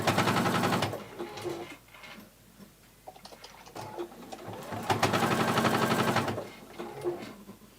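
A sewing machine stitches elastic in bursts, with loud runs of rapid needle clatter separated by quieter pauses, small clicks and handling noises.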